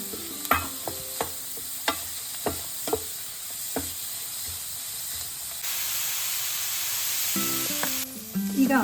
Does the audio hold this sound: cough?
no